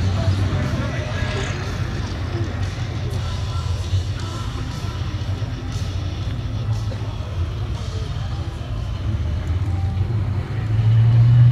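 Stormer armoured fighting vehicle driving past at a Tankfest display, a deep engine rumble that grows louder toward the end, with a crowd murmuring throughout.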